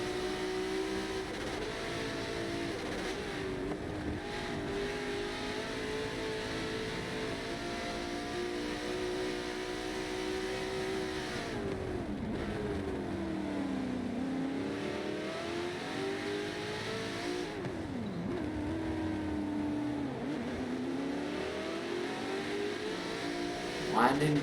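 Simulated race car in a 12-hour endurance race at Silverstone, engine holding a steady drone with pitch sweeping down and back up under heavy braking, running continuously and fairly loud for the whole stretch.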